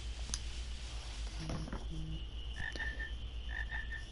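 Frogs croak in Final Fantasy IX, short repeated chirpy calls in small clusters over a low steady game ambience, with no voices.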